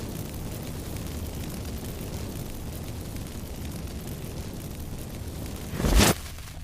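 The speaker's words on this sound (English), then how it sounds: "Get ready for some magic fireworks. Once I activate the incense," A magic incense burst in The Witcher 3 erupts with a single loud whoosh-boom near the end, rising out of a steady low rumbling ambience.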